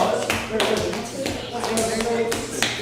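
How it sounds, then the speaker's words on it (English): A classroom of students claps together in a short burst, the sharp overlapping hand claps filling the room at close range with faint shuffling underneath. "So a big clap"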